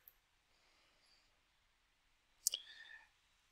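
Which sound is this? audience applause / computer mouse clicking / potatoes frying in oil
computer mouse clicking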